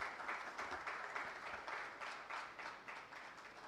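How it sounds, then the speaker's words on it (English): An audience at a foundation day event for STPI, the Software Technology Parks of India, claps in steady, faint applause from the hall, with no one talking over it. "A huge round of applause, please."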